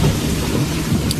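Heavy rain pours down steadily with deep rolling thunder rumbling underneath, a dense continuous roar close by with no break across the short stretch.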